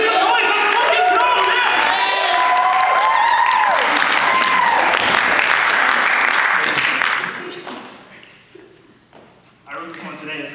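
Comedy show audience cheering, whooping and applauding loudly and steadily for about seven seconds, then fading into scattered claps and murmurs with a brief swell near the end.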